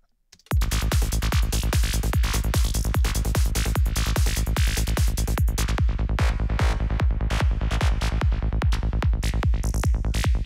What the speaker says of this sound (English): how to make a simple patch, an FM patch on a modular